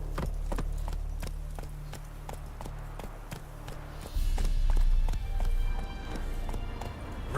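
Horse hooves in The Witcher 3 beat a quick, evenly spaced clip-clop. A denser rumbling stretch follows as the pace picks up, with no talk heard.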